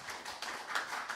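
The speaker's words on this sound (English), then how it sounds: "Can we give them a round of applause?" Applause from a small audience at a jazz venue after a sextet's set, brief dense clapping at moderate loudness with no talk over it.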